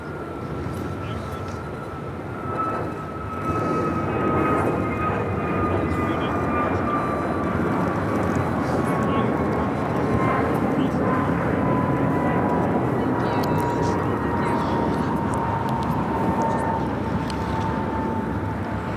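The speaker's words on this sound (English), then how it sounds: "So Asiana, the A380 Super, the first of two A380s, going to be taking off on the north side." An Asiana Airbus A380 takes off from runway 24 left on the north side at Los Angeles International Airport, a loud steady jet roar with a slowly falling whine that sustains throughout at moderate distance.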